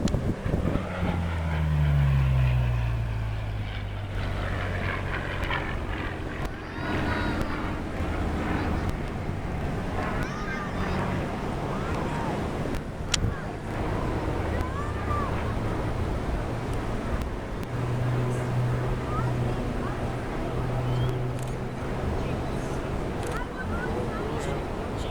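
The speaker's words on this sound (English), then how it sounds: "oh, the P-40." A P-40 Warhawk flies a demonstration at the Atlantic City Airshow, its engine drone sweeping past loudly at first and then fading into a distant hum amid wind noise while people nearby talk.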